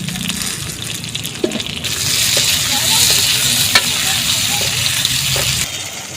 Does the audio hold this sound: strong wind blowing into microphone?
no